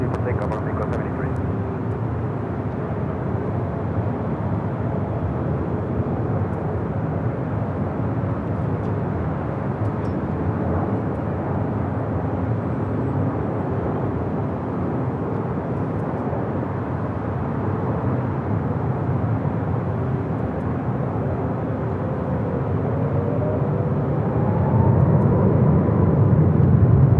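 A jet airliner at Los Angeles LAX takes off from runway 24 left: a steady, distant broadband engine rumble that swells louder toward the end, with radio voices talking over it.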